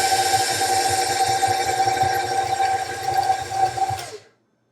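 An electric mixer whirs steadily through snickerdoodle cookie dough, a loud, even motor drone with a faint wobble, and it stops abruptly near the end.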